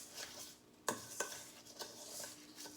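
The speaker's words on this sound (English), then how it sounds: "So I'm going to give that a good stir." A spoon stirs a buttery cheesecake crust mixture in a bowl with soft scraping and a couple of sharper clicks against the side, close and fairly quiet.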